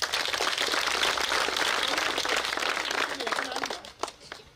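An audience applauds at a classroom commissioning ceremony at a school, a dense, steady wash of many hands clapping that carries on evenly before thinning out near the end.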